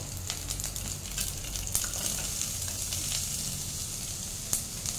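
Onion and other vegetables hit hot oil already holding garlic and green chillies for Bhutanese ema datshi, giving a steady crackling sizzle with scattered pops, fairly close and constant throughout.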